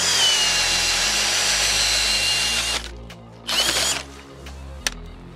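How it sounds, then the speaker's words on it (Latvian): A power drill drives an ice auger bored through about 15 cm of lake ice, a steady loud whine and grind that stops, then short bursts of drilling and a clack follow. "Urbmašīna, šneks no Rekstora ar ručku jau nopērkam Salmo"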